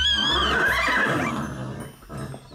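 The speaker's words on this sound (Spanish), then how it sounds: "Solo es el caballo relinchando" A horse gives a loud, high whinny that wavers and falls in pitch, with a few snorting breaths after it and no other sound around it.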